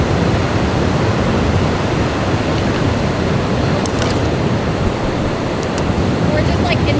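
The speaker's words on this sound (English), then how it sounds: "you can take pictures like underneath the waterfall" A waterfall roars in a steady, dense wash of broadband noise close by, unbroken for several seconds, with a few faint clicks near the end.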